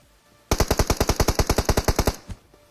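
A burst of about sixteen rapid, evenly spaced machine gun shots from the mobile battle royale game BGMI, loud and close, then a single trailing shot, with no talk over it.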